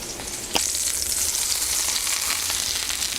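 Vegetables coated in curry spice sizzle and brown in a hot pan, giving a steady, close hiss with a brief clink of stirring near the start and no talking.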